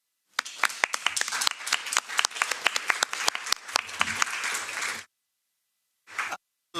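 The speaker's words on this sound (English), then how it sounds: "On peut l'applaudir, je pense." Members of the European Parliament applauding in the chamber, crisp sustained clapping for about five seconds, then a short silence and a brief second burst.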